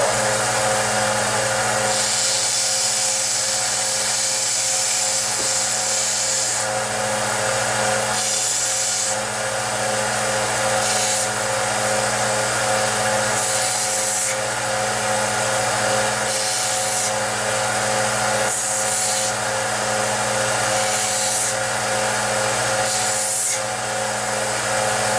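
A handheld power tool runs steadily to grind away burrs and smooth the edges of a part, making a loud continuous whirring drone with brief dips in intensity every few seconds and no talking.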